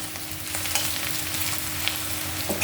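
Pieces of rohu fish fry in hot oil with a steady, dense sizzle and crackle that holds at an even loudness from start to finish, with no voices over it.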